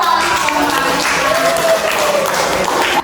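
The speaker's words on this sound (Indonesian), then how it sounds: "tepuk tangan" A classroom of students claps together, a dense, steady burst of applause lasting about three seconds, close and loud, with a few voices mixed in before it cuts off.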